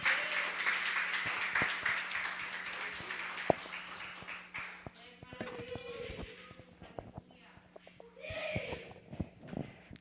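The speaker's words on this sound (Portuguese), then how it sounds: "As palmas louvam o Senhor." A church congregation claps hands in praise at a Brazilian Portuguese worship service, a fairly quiet patter of claps that fades after the first few seconds, leaving scattered taps and some room noise.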